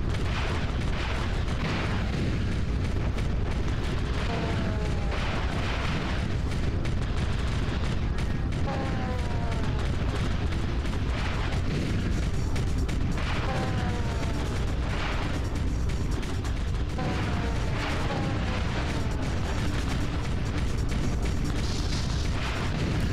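Continuous combat noise from Ratchet & Clank (2002) with repeated booms and explosive bursts, a dense barrage of blasts and whooshing rockets from cannons throughout, loud and busy.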